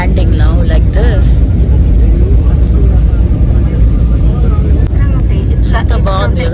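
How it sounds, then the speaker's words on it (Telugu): Airliner landing at Varanasi airport near the Ganges, a steady loud cabin roar of engines and rushing air filling the whole clip while people talk over it. "ఫ్లైట్ కిందకి దిగుతుంది అనమాట. Landing now like this."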